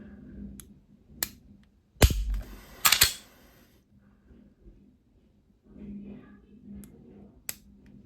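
A Taurus GX4 Carry pistol's trigger resets with sharp mechanical clicks: a few light ticks, then two louder snapping clicks about a second apart, close up, with quiet stretches between.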